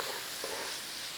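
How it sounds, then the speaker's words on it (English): Onions sizzle steadily in butter in a pan, a constant close hiss with no talk. "a little sizzle in there with your onions"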